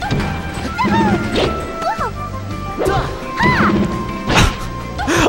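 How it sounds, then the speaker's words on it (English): Princess Peach's voice effects in a Super Smash Bros. Melee tournament match, heard as repeated short rising-and-falling yelps mixed with sharp hit and smash impacts over steady background noise. "I love all of Peach's noises."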